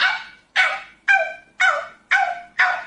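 A man imitates a dog's cries with six loud, evenly spaced yelping barks, each sharp at the start and trailing off, with nothing else heard.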